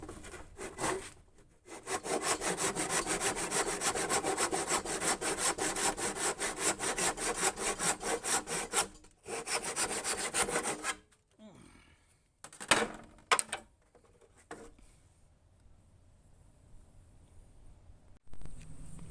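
A hand saw cutting a timber offcut for a Jayco Swan camper roof lifter, with steady rhythmic back-and-forth strokes for about nine seconds, a short pause, a brief second run, then a few knocks and handling sounds.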